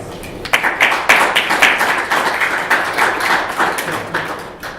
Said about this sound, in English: There's a room survey with the excellent live captioning we've had all camp, which I think deserves a round of applause.